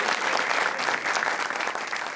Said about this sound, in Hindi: हमारे म्यूजिशियंस के लिए जरा जोरदार तालियां बजाइए यार